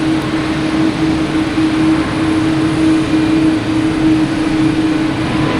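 An Air Portugal airliner passes at Boston Logan Airport, a loud, steady jet roar with a constant drone filling the whole stretch, close and unbroken.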